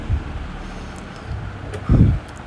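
Gusty wind at Munambam beach rumbles against the microphone with a low roar, strongest in a loud burst near the end, with no voices.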